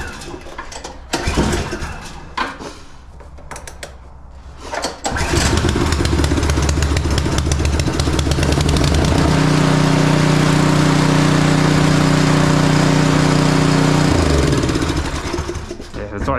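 A small shop engine with no throttle, shut off only by pulling the key, fires up after a few seconds of rustling and runs loud and steady at a constant speed, settling slightly near the end.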